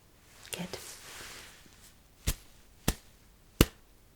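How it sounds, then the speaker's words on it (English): Hand claps sound in an ASMR hearing test: a soft whispered voice at the start, then three sharp, close claps spaced well apart. "please let me know when you hear the second clap"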